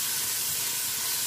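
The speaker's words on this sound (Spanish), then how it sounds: "Echamos el ají verde. Y dejamos que se dore un poquitito." Chopped green chili peppers fry in a hot pan for ribs in sauce with potatoes, giving a steady, even hiss of sizzling oil that runs unbroken from start to finish with no voices.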